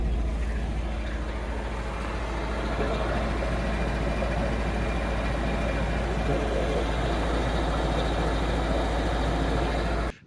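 An old Volvo engine idles with a misfire, a steady low rumble running close and continuous for about ten seconds before cutting off abruptly at the end.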